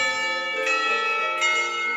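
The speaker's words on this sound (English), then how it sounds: "Somewhere the school bells ring the last call of the day" School bells in the Katawa Shoujo game ring out as a sustained, bright, harmonic chime with a few repeated strikes blending together, loud and clear with no talking.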